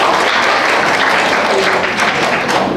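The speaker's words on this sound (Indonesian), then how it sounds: "kita tepuk tangan untuk" An audience at an Indonesian teacher-training field-practice presentation bursts into loud, sustained applause, a dense, close wall of clapping hands that holds steady throughout with faint voices beneath.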